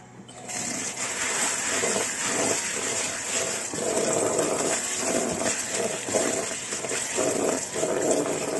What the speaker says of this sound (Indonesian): Langkah pertama adalah kita cuci si kangkung. Bilas dulu benihnya.